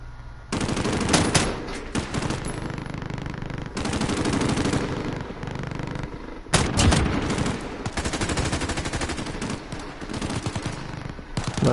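Sustained machine-gun fire in a video game firefight, with bullets chewing through cover, heard as loud, rapid bursts separated by brief pauses and continuing nearly throughout.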